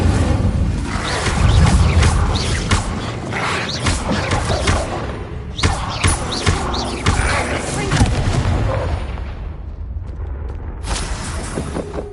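A fiery burst from an Incendio spell in a game erupts in a dense roar, with booming thuds and crackling bursts repeating across the stretch, loud and close, with a brief voice over it.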